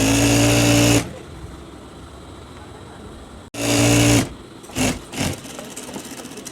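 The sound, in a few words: sewing machine stitching a shalwar trouser seam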